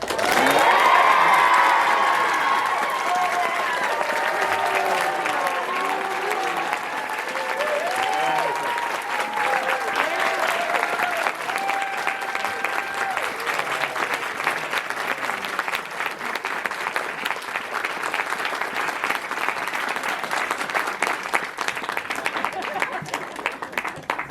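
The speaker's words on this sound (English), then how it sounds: "please give a roaring set of applause for Reed Mallard and Amy Walker" Roaring audience applause for volunteers at a church youth play finale, loud sustained clapping with cheers and children's shouts early on, settling into steady clapping for over twenty seconds.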